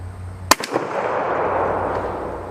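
A Norinco 98 pump shotgun fires one sharp, loud blast downrange outdoors, followed by a quick echo and a long rolling tail of reverberation that fades over the next two seconds.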